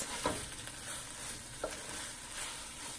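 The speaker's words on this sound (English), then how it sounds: "Give the onions a good mix to ensure everything is mixed through and continue to cook on medium-low heat for another 5 minutes." Onions cook on medium-low heat while being stirred. A soft, even sizzle runs throughout, broken by a few quiet spatula scrapes.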